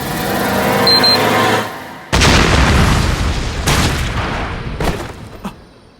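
A dramatized flying bomb slams into its target in a game-themed action story. Loud, close booming blasts arrive in a burst, then a rumbling roar follows and fades out.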